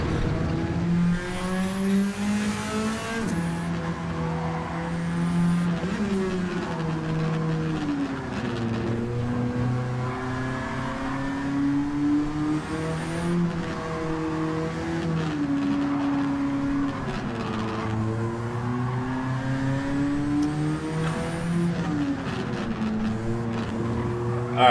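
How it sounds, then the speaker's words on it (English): A swapped, modded 1969 Nissan Fairlady Z 432 being driven hard, its engine droning and revving steadily with shifting pitch through gear changes for the whole stretch, loud and close with no talking. "we got Repo in the Nissan Fairlady Z, swapped and modded."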